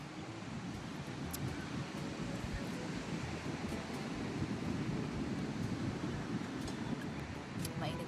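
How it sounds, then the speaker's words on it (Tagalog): Big sea waves wash against the shore near a lighthouse, a faint, steady broadband rush of surf that carries on without pause. "malalaki nga palang alon."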